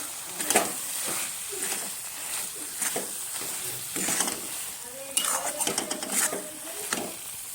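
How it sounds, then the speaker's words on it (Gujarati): Grated carrot halwa roasting in a pan on a low gas flame, with a spoon scraping and stirring in repeated strokes over a soft sizzle, close and fairly quiet, with no speech. "હજુ સરસ એવું શેકાવા દેશું."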